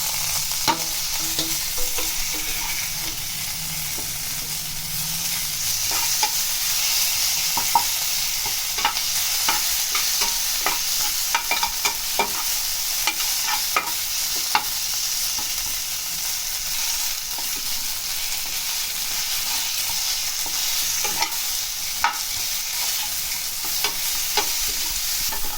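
Chopped tomatoes stir-fry in a pan with a continuous hiss of frying and frequent spatula scrapes and taps, close by and without speech, for a long steady stretch.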